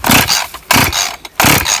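A small motor is started and revved during winter outdoor work. It sounds close and loud in choppy bursts that cut in and out repeatedly.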